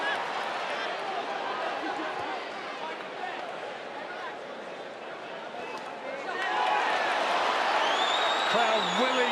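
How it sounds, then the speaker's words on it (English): Boxing crowd at an IBF super flyweight title fight roars steadily for Jamie Conlan against Jerwin Ancajas, swelling louder near the end, with a commentator talking over the din. "Crowd willing Conlan on."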